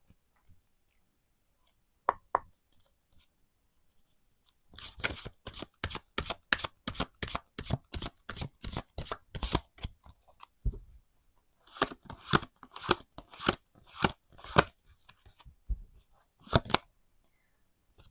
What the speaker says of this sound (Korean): 카드를 좀 더 펼쳐 보면서 내용을 한번 보도록 할게요